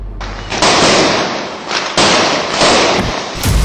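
Diwali evening firecrackers bursting in a dense, loud series of sharp cracks and booms that roll over one another for several seconds, with no single shot standing out.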